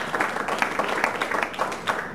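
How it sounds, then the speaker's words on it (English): An audience claps for a presenter at the close of a talk on touch and post-touch devices. The applause is a steady, dense patter of many hands that holds at an even level with no voices over it. "Let's give Dave a big round of applause"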